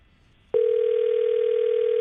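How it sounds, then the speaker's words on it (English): A telephone line clicks open and a steady, loud, continuous dial tone begins about half a second in and holds unbroken to the end. "The bedside phone ought to be ring-a-ling-a-linging right now."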